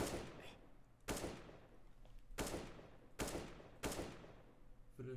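Five loud single AK rifle shots in Counter-Strike, spaced about a second apart over a steady background hum, with no talking.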